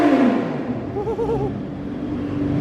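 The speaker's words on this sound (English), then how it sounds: "Holy shit, they're having a rev off here." Cars, including a Lamborghini, revving their engines in a street rev-off, loud rising and falling roars with a wavering whine in the middle, close by and without talk.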